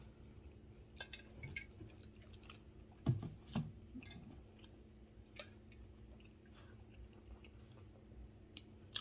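Battered Chinese food is chewed at a mukbang, with soft, faint, close-up wet chewing and squishing sounds, a few clinks and small liquid noises in between, and no talk.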